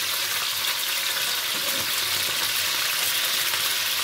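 Chicken pieces fry in a pan for chilli chicken, making a loud, dense, continuous sizzle up close with no pauses or voices.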